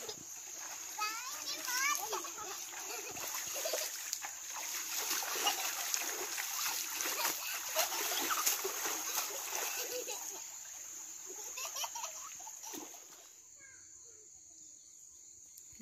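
Water splashing from people bathing in a river, a busy broadband wash with children's voices and chatter mixed in throughout, easing off near the end.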